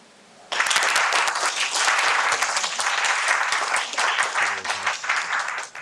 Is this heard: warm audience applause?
yes